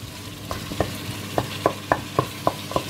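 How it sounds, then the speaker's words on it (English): A spoon stirs garlic into a frying lentil and bulgur mixture in a pan, giving about nine regular scraping strokes over a steady low sizzle, close and moderately loud with no voices. "garlic in it, and again I'm going to mix it"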